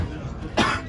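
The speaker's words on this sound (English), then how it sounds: "It's a dry cough." A single short, dry cough from a person pretending to be sick, sharp and close, set against a steady background hiss.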